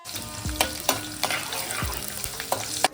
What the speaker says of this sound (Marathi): तेल गरम झाल्यावरती चिरलेली मिरची आणि लसूण टाकलेले